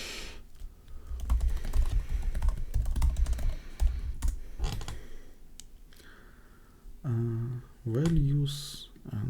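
Computer keyboard typing of code during a competitive programming session, a fast clattering run of close key presses with brief pauses, while someone talks over parts of it.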